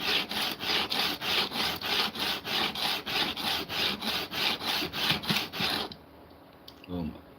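A Japanese plane blade is rubbed back and forth on a sharpening stone in a steady rhythm of about fourteen close, gritty strokes, then stops, leaving a quiet room and a faint tone.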